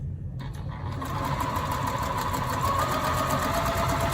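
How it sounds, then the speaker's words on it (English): A sewing machine runs steadily, stitching quilting fabric along a marked line for a small heart block, with a continuous close mechanical whir after a brief start and no talking. "Take another piece of fabric and I'm going to sew on the line for that."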